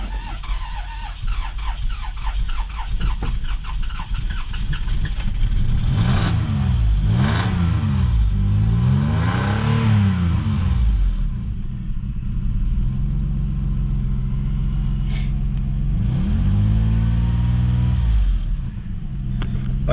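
A 2002 Toyota Highlander engine runs loudly and steadily up close, idling with a rough rumble, then revving up and down in several swells before settling back to idle, with no talking.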